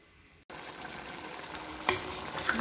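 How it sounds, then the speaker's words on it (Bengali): Beef curry in a pot over the heat, starting to bubble toward a boil with a soft continuous sizzle and a few stirring clinks, moderately quiet and close, no talking. "বলক চলে আসছে"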